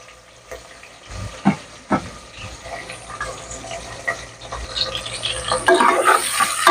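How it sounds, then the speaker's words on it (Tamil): Chopped onions frying in a pan for an aatukal paya (goat trotters) curry: a steamy hiss that swells and grows busier toward the end, with a few sharp knocks and stirring clatters early on. "வெங்காயத்தை சேர்த்துக்கிறேன்."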